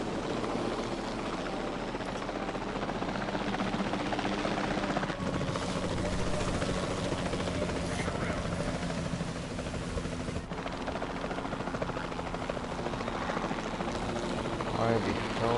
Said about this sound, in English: Why the hell can't you fly, helicopter?